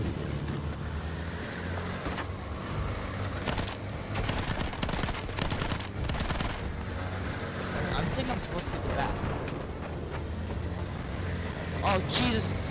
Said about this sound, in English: Where am I shooting? Where am I supposed to shoot?